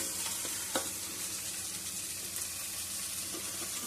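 Pointed gourd and eggplant pieces go into a pan with carrot for a vegetable curry and fry with a steady, close sizzle. Stirring scrapes through it and a brief clink sounds near the start. No one speaks.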